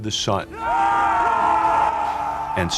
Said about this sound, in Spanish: Y bajando a gritos por las montañas venía el ejército de Josué